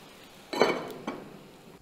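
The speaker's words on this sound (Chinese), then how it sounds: "用筷子杵几下方便透气" Chopsticks prod and poke into cooked rice inside a claypot, giving a few close, short scraping clinks and taps separated by brief pauses.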